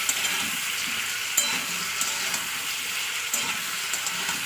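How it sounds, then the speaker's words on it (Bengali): Ginger garlic paste frying in a pan for a fish curry with radish and spinach; a steady, even hiss of sizzling oil with occasional light ticks and stirring clicks, close and uninterrupted. "দিয়ে আবার আমি দু এক মিনিট কষিয়ে নেবো যাতে আদা রসুনের গন্ধ চলে যায়"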